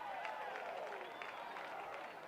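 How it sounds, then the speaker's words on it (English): A small-town baseball crowd from Kanab lets out a murmuring ooh and ah at a high pitch during a 2A high school semifinal, a soft rising crowd reaction with scattered voices. "Got the oohs and ahs from the Kanab crowd"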